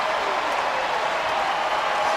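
A raucous basketball crowd at Rupp Arena during a Kentucky game roars with a steady, dense wash of cheering and clapping that holds evenly throughout.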